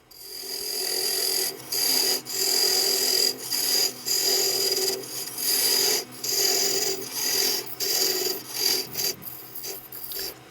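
Yew wood goblet being sanded on a spinning lathe, a steady close rasping hiss that surges and dips in short repeated strokes with brief gaps, running continuously for the whole stretch.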